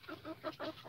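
Chickens clucking in a backyard coop, a short run of near, moderately loud clucks and soft calls repeating in uneven bursts with no talk.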